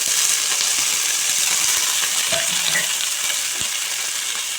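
Curry leaves, mint and onions with green chillies fry in hot oil for chicken pulao, a dense continuous sizzle with occasional stirring clinks and scrapes, close and loud.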